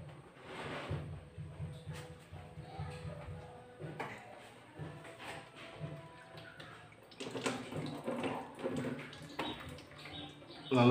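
Radiator coolant drains from a Honda CB150R motorcycle, trickling and dribbling quietly and steadily, with a few soft clunks and a louder knock at the end.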